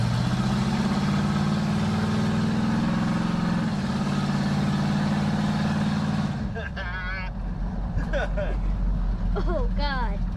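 A 1976 Chevrolet C10 pickup engine idles with a slight misfire, a steady close rumble for several seconds before the tone shifts and voices talk over a lower, rougher idle.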